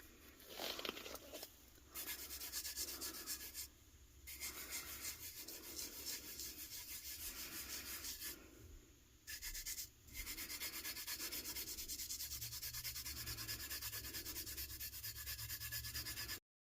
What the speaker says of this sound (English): now I'm going to go ahead and burnish it to lay the glitter down